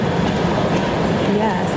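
Interior rumble of a London Underground train, a loud, steady low roar with a faint rattle, under a crowd of voices with police on the platform.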